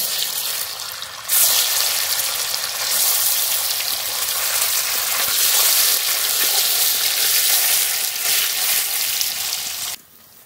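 Paneer pieces frying in hot oil in a home kitchen, a loud, steady sizzle that begins abruptly and holds for several seconds before cutting off, with no talking.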